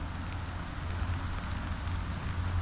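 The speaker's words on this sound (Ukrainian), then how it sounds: "а дощ іде" Steady rain falls on a riverbank during autumn feeder fishing on the Psel River near Sumy, a dense even patter with a low rumble underneath and no voices.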